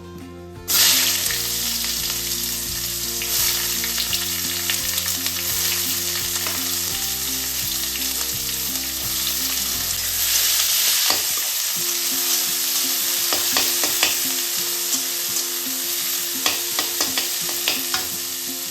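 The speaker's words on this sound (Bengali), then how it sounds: "গোটা গরম মশলা দিয়ে দিচ্ছি, কিছু পেঁয়াজ কুচি" Whole garam masala, bay leaf and chopped onion fry in hot ghee and oil for a mutton curry, a loud, close, continuous sizzle with spatula stirring and scraping, over a background music bed.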